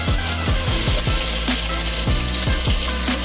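Onions sautéing in a hot pan give off a steady, close sizzle, broken by repeated scraping strokes of a spatula stirring through them at a regular rhythm.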